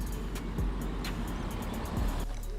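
A car drives past outdoors with a steady engine and tyre rumble that swells and fades, loud and close amid roadway noise, with no one speaking.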